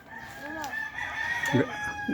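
Rooster crowing once nearby, a rising and falling call lasting about a second, followed by a few short clucks from the fowl, with faint background noise and no talking.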